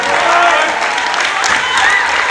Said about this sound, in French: j'ai demandé d'applaudir très très fort la personne qui m'a rendu FedEx dans ce pays